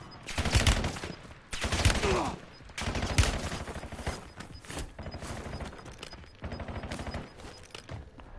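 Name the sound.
gunfire in the video game Black Ops 6 Warzone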